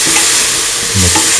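Chopped onion frying in a pan: a loud, steady, close sizzle with light stirring, no talking.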